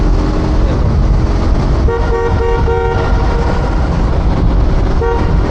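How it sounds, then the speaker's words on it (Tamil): Loud, close horn honks in short repeated toots over constant engine and road noise, with a final honk near the end. "இப்போ ஹார்ன் அடிக்கிற பாருங்க கேட்குறீங்களா?"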